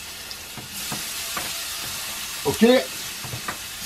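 Vine ripe tomatoes sizzle in a hot frying pan for a full English breakfast, a steady crackle and hiss, while someone briefly speaks over it.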